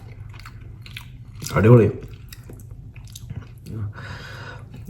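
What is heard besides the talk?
eating and chewing fried fish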